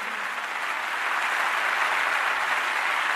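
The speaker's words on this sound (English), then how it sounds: "Thunderous applause going on." Thunderous applause from a large crowd in a Final Fantasy X cutscene, a dense, steady wash of clapping that swells slightly and holds for several seconds without talk.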